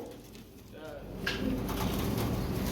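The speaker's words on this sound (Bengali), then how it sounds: "দেখতে পাচ্ছেন ব্লু কালারের মধ্যে এক্সিবিশন কবুতর" Blue exhibition pigeons coo softly in a close, low, repeated murmur, with a brief rustle and other birds faintly around them and a voice nearby.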